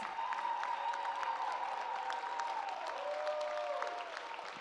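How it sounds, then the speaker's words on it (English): Church congregation applauding steadily for the 2024 Black Achievers at Grace Emmanuel Baptist Church, a dense, sustained clapping from a large crowd filling the room with a few faint voices mixed in. "Let's give another round of applause for all of our 2024 Black Achievers"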